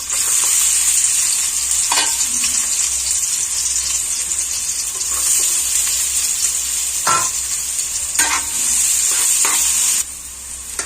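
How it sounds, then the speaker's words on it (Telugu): Chopped onion fries in hot oil in a pan, a steady close sizzle throughout with occasional scraping stirs and clinks of a utensil, no voices. "ఆయిల్ వేడెక్కాక ఒకటి ఉల్లిపాయని కట్ చేసుకొని వేసుకోవాలి."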